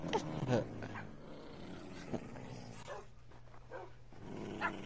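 Dogs in a PS4 video game growl and bark in short bursts, with several sharp yelps and a low snarl, heard at moderate level over game ambience.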